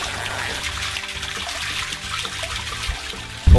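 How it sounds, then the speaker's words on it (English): Water pours steadily from a pipe into the first filter of a DIY aquaponics system, a continuous close trickling and gurgling flow that runs alone throughout, ending in a brief louder splash. "Water is flowing in"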